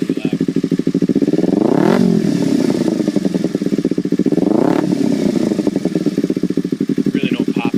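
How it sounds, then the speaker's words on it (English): A 2009 Kawasaki Ninja 250 fitted with a baffled Danmoto conical exhaust, revving twice in loud, rising bursts over a steady idle, with close, rhythmic engine pulses between the revs. "When you rev it, it gets pretty loud."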